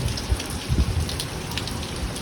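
Steady rain patters across a surface, a dense hiss of drops with a few heavier low thumps, no voices.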